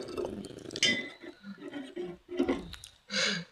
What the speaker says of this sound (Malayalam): അതിനു വേണ്ടി നല്ലോണം ഒന്ന് ഇളക്കുക.